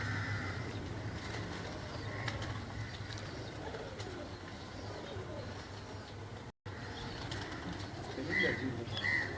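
Domestic pigeons in a fancier's loft coo softly and repeatedly against a low background hum, with a brief dropout near the end and faint chirps scattered throughout.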